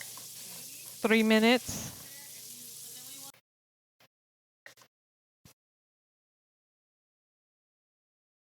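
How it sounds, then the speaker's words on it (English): Meat for a Persian eggplant stew sautés in a pot with a steady broadband sizzle under a brief spoken remark, then cuts off into near silence broken by a few faint clicks. "you're going to saute them till all the redness is gone"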